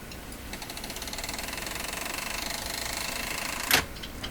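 A Sony TC 530 reel-to-reel tape deck fast-forwards with a fast, even run of mechanical clicking, faint and steady, ending in a short sharp burst near the close.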